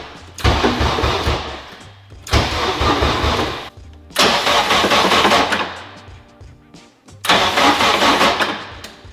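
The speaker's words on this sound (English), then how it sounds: "Hypothetically speaking, this engine should crank" Twin-turbo K-series Honda engine in an NSX cranking for its first start: four loud bursts of starter churning, each lasting one to two seconds and separated by short silences, with the engine never catching.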